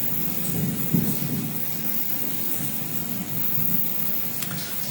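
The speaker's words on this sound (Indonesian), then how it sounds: "di luar hujan" Steady rain falls outside as a constant dense hiss with a low rumble beneath it, fairly loud and unbroken, with no talk.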